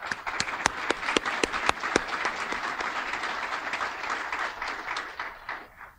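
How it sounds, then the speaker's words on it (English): Audience applause after a keynote at the 2011 Delaware Estuary Science & Environmental Summit: a dense, steady wash of clapping with sharp individual claps standing out near the start, fading slightly toward the end. "round of applause"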